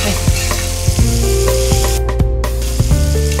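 Torn roti pieces drop into a pan of sizzling, spicy curry, setting off a loud, steady frying sizzle broken by sharp stirring clinks and scrapes.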